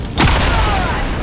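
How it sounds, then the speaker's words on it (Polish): A single sharp gunshot rings out in XCOM 2 War of the Chosen, a loud close crack with a brief booming tail and a lingering reverberant decay. "I teraz tak, moglibyśmy tutaj oddawać strzał"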